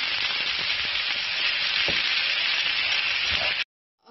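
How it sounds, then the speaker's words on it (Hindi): Grilled chicken and vegetables sauté in a hot pan, with a loud steady sizzle and a few stirring knocks, close up, before cutting abruptly to near silence. "अब मैं वेजिटेबल्स के साथ थोड़ा सा 2 से 3 मिनट के लिए अच्छा सा सौते करूंगी"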